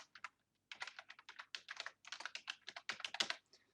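Quick, light clicking of computer keyboard keys as a name is typed, a rapid run of close, crisp taps with a brief pause early on, quiet and with no talking.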